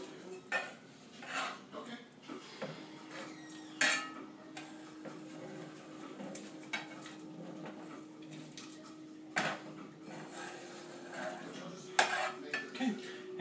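A spoon stirs chopped cooked chicken into soup in a metal pot, giving intermittent clinks and scrapes against the pot in an irregular rhythm, close and moderately quiet, with a low steady hum underneath.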